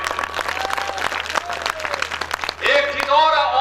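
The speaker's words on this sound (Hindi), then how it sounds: "तालियां कमजोर हैं" Audience at a mushaira held on a Ramlila stage claps in a sustained, busy burst for a couple of seconds, then the clapping gives way to a voice speaking or reciting.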